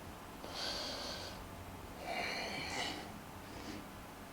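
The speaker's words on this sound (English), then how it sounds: "Take 3 slow deep breaths here" Slow, deep breaths from someone holding a yoga backbend: airy inhales and exhales, close and soft, with a faint steady background hiss and no talking.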